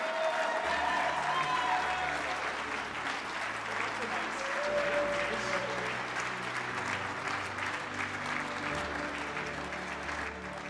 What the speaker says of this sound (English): Let's give a nice round of applause to David Musto, your immediate past chair.